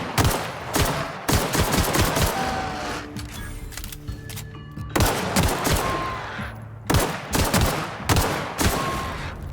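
Gunfire in The Outer Worlds comes in repeated loud bursts of shots, clustered volleys separated by short pauses, with nobody talking.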